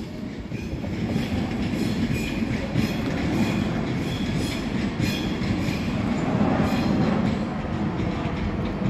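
A Class 390 electric train, City of Lichfield, 390011, rolls past at a station in Stockport, a steady loud rumble with rhythmic clicking of wheels over rail joints, continuous for nearly nine seconds without speech.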